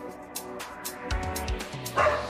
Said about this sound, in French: il y a plein d'aboiements de chiens avec plein de significations